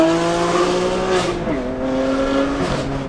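A BMW M2 Competition with a Valvetronic Designs equal length exhaust and a bypass setup revs loud and close, its steady exotic engine tone rising and falling in smooth pitch sweeps with no talk over it.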